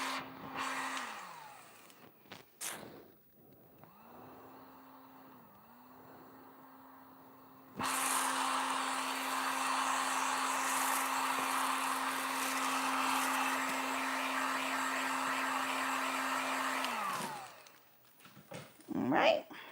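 A heat gun blows steadily, a broad loud whoosh, while florals and baskets are finished for an event; it runs alone for roughly ten seconds before cutting off, with quieter handling noises and brief talk on either side.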